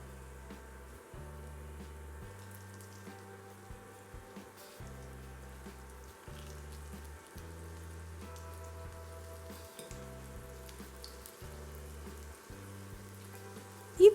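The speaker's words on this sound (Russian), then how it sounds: "Накрываем крышкой и вот так на среднем огне жарим примерно 4-5 минут." Pumpkin fritters frying over medium heat under a lid in a pan, a soft continuous crackle and sizzle with light patter, steady and close, while quiet background music plays, ending in a brief sharp clatter.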